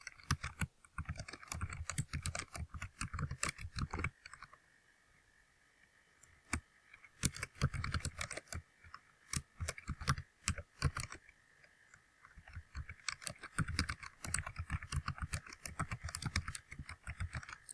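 Quiet, close computer keyboard typing in rapid bursts of clicking keystrokes, broken by a few seconds of near silence with scattered single taps before the typing resumes.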